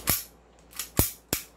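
An upgraded 7.0 Dragon toy gun being cocked makes four sharp, crisp plastic clacks, spaced unevenly and heard up close with no voices.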